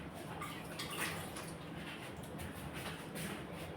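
Water runs steadily in a home kitchen while an already clean utensil is rinsed, a continuous close splashing wash with faint clinks and no talking.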